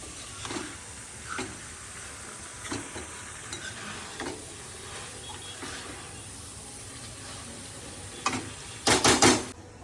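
Potatoes for a dosa filling are stirred in a frying pan, with soft repeated scrapes over a low sizzle, then a louder burst of clatter near the end.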